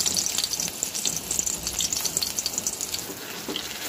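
Garlic and two dried red chillies fry in about 50 grams of oil in a wok, making a steady, close, dense sizzle with no pauses.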